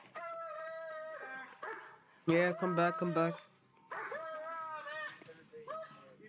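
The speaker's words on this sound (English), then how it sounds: "someone make that dog shut up" A police dog barks in sharp, loud bursts of three or four yelps, between stretches of whining and whimpering, while someone speaks briefly nearby.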